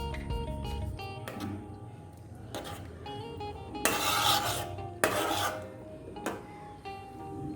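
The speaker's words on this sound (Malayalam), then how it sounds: "നമുക്കൊന്ന് ഇളക്കി കൊടുക്കാം" A spoon scraping and rasping through mango curry made with native mangoes in a pan, steady rubbing strokes with a few louder scrapes midway, fairly quiet and without speech.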